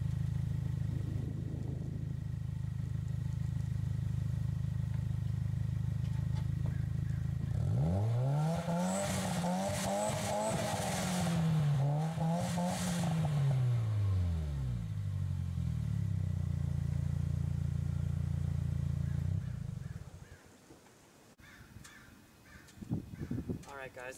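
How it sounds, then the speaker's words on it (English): A 2017 Subaru WRX exhaust revs loud and close, with a steady idle, then rising and falling throttle blips in quick succession, before settling back and cutting off near the end. "let's get a few exhaust clips"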